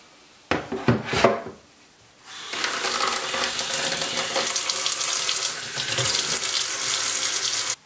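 Tap water running while a salt print glass plate is washed in a sink: a few splashy bursts, then a steady, fairly close continuous flow of running water, with no talking.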